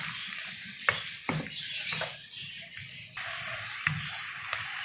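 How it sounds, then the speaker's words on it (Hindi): Onions frying in hot oil in a pan, with a steady hiss and sizzle and occasional soft scrapes and knocks of a spoon stirring, heard close and continuous without talk. "अब हम इसी ऑयल में प्याज डाल देंगे और इसे लाइट से हम ब्राउन कर लेंगे।"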